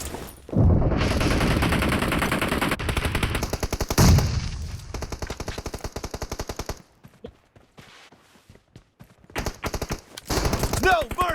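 Gunfire in a PUBG Mobile team deathmatch with shotguns: dense, rapid volleys of close, loud shots that thin into sparser single bangs, then pick up again in quick bursts.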